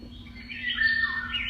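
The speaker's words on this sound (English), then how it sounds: "birds," Bird calls from a white noise sleep machine: faint squawks and chirps over a steady low hum and soft background hiss, rising slightly midway and continuing without talk.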